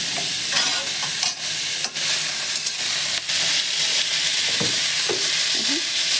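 Boiled cauliflower stalks seasoned with salt and turmeric are gently stirred in a pan, a soft continuous sizzle with occasional scraping spatula strokes and light knocks, close and with no talk.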